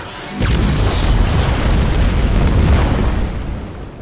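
Huge explosion from the animated series Invincible, a deep booming blast that bursts in suddenly, rumbles loudly for several seconds and then fades, with no speech over it.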